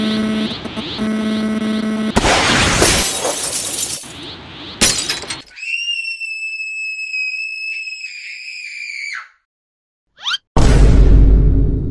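A thrown cellphone shattering in an animated cartoon, with a loud crash of breaking glass and whooshes, then a sustained electronic whine and a brief silence before another heavy burst of breaking.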